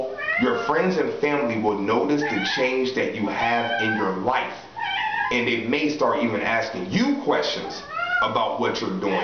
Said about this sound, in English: You might hear my cat in the background.